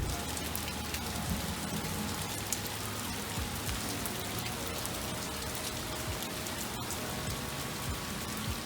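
Steady rain on a car during the drive home after a Dodge Viper alignment, a dense, even patter of drops hitting the surface throughout, close and continuous with no voices.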